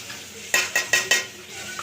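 Batter sizzling in a hot frying pan gives a low background fizz, broken by four quick scraping, clattering stirs in a row from a utensil against the pan, close and fairly loud.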